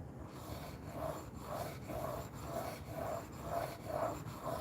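A knife blade scrapes rhythmically back and forth across a 3000 grit whetstone, about eight even rasping strokes in close succession, alone with no talk.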